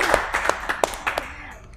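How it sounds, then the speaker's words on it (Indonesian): Audience clapping in a small gathering, a handful of distinct separate claps with a light scattered rhythm, fairly close and brief, with no talk over it. "Tepuk tangan dulu dong."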